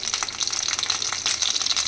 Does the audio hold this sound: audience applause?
no